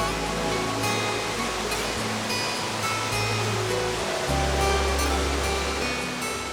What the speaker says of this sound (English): The river spectacularly cascades over a rocky outcrop and at the 100-foot claims to be Britain's highest unbroken waterfall.